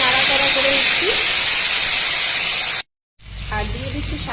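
A paste of ginger, peanut, green chilli and cumin sizzles loudly in a pan as it is stirred, a harsh steady hiss that cuts out briefly, then resumes more quietly under a speaking voice.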